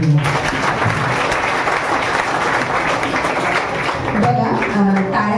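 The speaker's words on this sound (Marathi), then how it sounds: "एकदा जोरदार टाळ्या वाजवूया." An audience at a Marathi poetry gathering breaks into vigorous, sustained applause, a loud, continuous wash of many clapping hands with some voices faintly mixed in.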